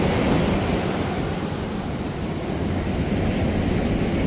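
Surf washes steadily onto a beach at Baler, Aurora in the Philippines, a continuous broad roar of breaking waves mixed with wind buffeting the microphone, loud and close with no voices.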